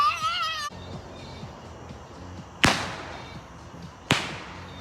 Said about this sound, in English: We're gonna do some more fireworks tonight, so we're just getting set up.